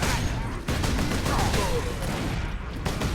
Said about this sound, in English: Godwin pattern bolter is the characteristic Space Marine battle rifle, firing self-propelled explosive tipped rounds